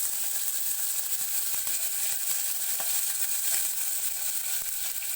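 Tomato, green chillies and curry leaves fry in a pan with mustard seeds, making a constant bright sizzle with scattered small pops and faint clicks, close and alone.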